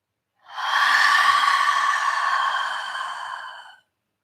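A deep yoga breath, drawn in through the nose and released out through the mouth, comes as one long, steady, close-up airy rush lasting a few seconds, with no talking.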